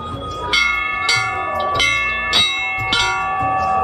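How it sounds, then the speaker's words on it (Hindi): A temple bell at a Ganesh shrine during a festival tableau display rings in five clear, resonant strikes about half a second apart, each leaving a lingering metallic ring, close by amid a faint crowd murmur. "और घंटी ला बजा लेते हैं"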